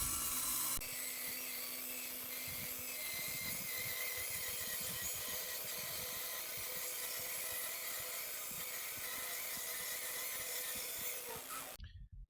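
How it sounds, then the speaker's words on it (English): A bandsaw cuts freehand along a line on a wooden plank, making a steady buzzing rasp that runs for several seconds before stopping abruptly at the end. "As you can see, not using the guide rail on the bandsaw,"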